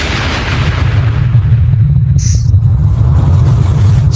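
An explosion sound effect rolls out as a loud, sustained low rumbling roar, dense and continuous throughout with a brief hiss rising near the middle.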